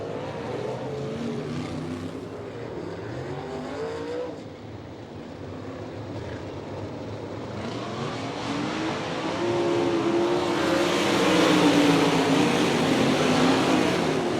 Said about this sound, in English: Back to green flag racing action.